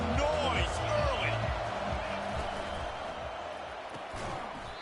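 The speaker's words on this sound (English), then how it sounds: "This crowd bringing the energy and noise early." Steady, roaring crowd noise fills a stadium at an LSU college football game, a dense wash of distant cheering and shouts that holds for several seconds, with a commentator's voice faintly underneath.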